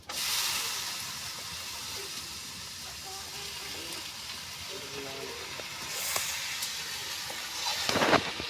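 Oil sizzles steadily in a pan while beef cooks with taro stems, a broad, constant hiss that swells a little toward the end.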